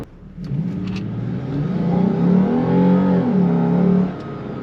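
A 2006-2013 Lexus IS250/350 F-Sport engine with a cold air intake revs up from idle into a deep, throaty rumble, climbing in pitch and holding before easing back down near the end.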